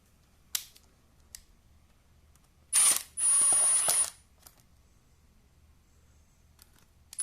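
A ratchet working on 7mm screws during a Ford Ranger timing belt install, a few faint isolated clicks, then two loud close bursts of rapid ratcheting around the middle, followed by quiet with occasional small clicks.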